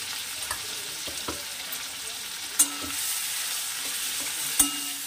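Chhana (cottage cheese) being mashed and lightly fried in a pan for Bengali chanar payesh gives off a quiet, steady sizzle, broken by a few soft scrapes and two sharp utensil clinks against the pan.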